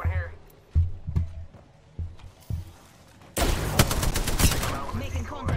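Gunfire in the battle royale shooter Apex Legends: a few isolated, spaced shots and thumps, then a sudden loud, sustained barrage of rapid fire that runs to the end, with a voice talking in the background.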